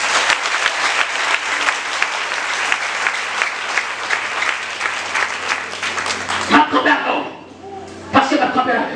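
Congregation applauding and cheering loudly during a Holy Spirit week church service, a dense continuous wash of clapping for about six seconds before it breaks off into scattered claps and shouting voices.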